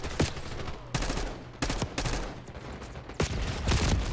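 Heavy gunfire from a big gun in the video game Call of Duty: several loud, sharp bursts and shots at irregular intervals, close and punchy, with busy game noise between them.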